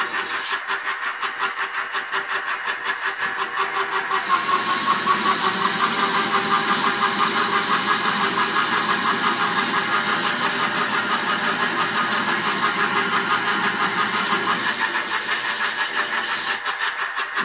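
A Grizzly G0769 combo lathe turns and cuts soft aluminum at around 500-600 RPM, giving off a steady, close motor hum with a whining tonal edge that holds for the whole stretch, with no voices.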